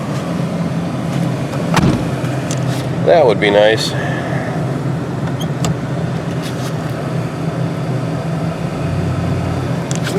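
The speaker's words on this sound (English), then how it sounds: "Maybe we can get some traction and actually drive it out of here." Ford Crown Victoria stuck in snow over ice, its engine running in a steady low rumble as it tries to drive out, with a brief whining rise near the start and someone speaking briefly.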